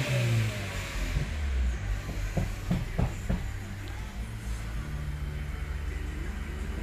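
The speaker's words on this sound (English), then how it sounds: "Accelerate the wide open throttle." Engine of a 2018 Chevrolet Cruze with a 1.4L turbo and a cylinder 1 injector misfire, revved hard at wide open throttle; a deep rumble rises and holds, with a few sharp clanks partway through.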